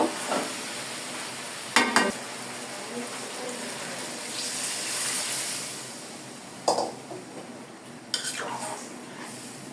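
Vegetables frying in a pan have water added, giving a soft continuous sizzle broken by a few sharp stirring scrapes and utensil clatters.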